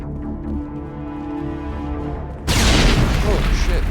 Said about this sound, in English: X is how I throw grenades